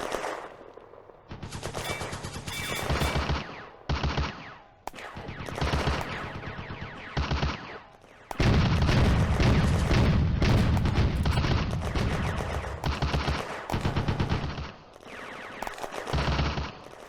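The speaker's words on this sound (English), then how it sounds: "The Granatwerfer mission misses the Soviet machine gun, Das war knapp! which continues firing" A Soviet machine gun in the WWII strategy game Firefight rattles off long rapid bursts, loud and close, separated by brief pauses, with heavier booming fire joining in later.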